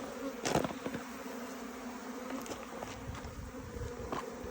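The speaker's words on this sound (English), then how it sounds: "the returning bees are going into my box" Honeybees buzz steadily and close around a hive box, a dense droning hum with individual bees zipping past now and then; no voices.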